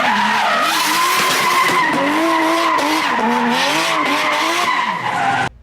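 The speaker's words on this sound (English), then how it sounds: "You cannot beat the sound of a VVTi 1J." A drift car with a Toyota 1JZ VVTi engine, revving hard with rising and falling pitch while the tires squeal continuously, loud and close, sustained for several seconds before cutting off.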